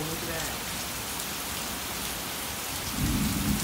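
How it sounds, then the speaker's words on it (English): Heavy rain falls steadily during a thunderstorm, a dense hiss with low thunder rumbling underneath that swells louder toward the end. "Okay, we had a lot of thunder."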